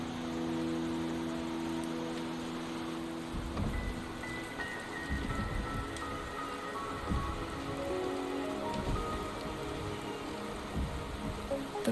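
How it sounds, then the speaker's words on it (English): Steady rain falls in the video game Wuthering Waves, a dense, even hiss of drops pattering on surfaces with soft, scattered splashes, constant throughout and with no voices. "The rain is subsiding, and the sky will soon clear."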